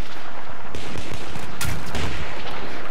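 Sniper rifle shots in a video game loaded with slug ammunition and a 6x scope, heard as a few sharp bursts around the middle of the clip over a dense, noisy game background.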